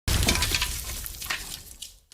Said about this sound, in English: Then it blew very hard, and the house with Owl, Pooh, and Piglet inside crashed